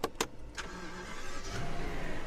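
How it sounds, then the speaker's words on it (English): A Rolls-Royce engine starts with a quick crank and catches, settling into a steady, smooth idle that rises slightly, heard close up inside the car. "I'm going to turn on the car so you can see another couple of things."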